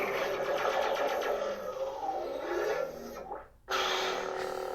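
A NovaSaber Darth Vader replica lightsaber plays its photon ignition effect, a close, steady buzzing hum that drops out briefly near the end and then returns at full strength.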